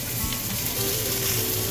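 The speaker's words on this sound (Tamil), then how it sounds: "இப்போ சட்டி ஹீட் ஆகிட்டுது பெருஞ்சீரகம் கடுகை போட வேணும் வெங்காயத்தையும் போட்டு வதக்க வேணும்" Fennel seeds, mustard seeds and onions sizzling steadily in a hot pan for a mutton devil dish, a dense, close frying hiss throughout without pause or talking.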